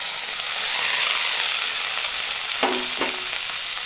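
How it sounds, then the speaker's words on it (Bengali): Capsicum and green chilli fry with onion in a pan, a steady bright sizzle running throughout, broken near the end by two quick clatters of stirring. "ক্যাপসিকামটা মোটামুটি ভাজা হয়ে গেছে।"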